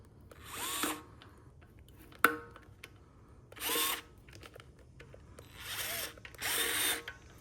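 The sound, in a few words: power drill driving a screw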